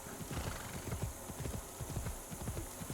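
Horse hooves clip-clop steadily in the Assassin's Creed Shadows video game as the horse is ridden through groves of trees, a quick, regular rhythm of close thuds with an occasional whinny, and no talking.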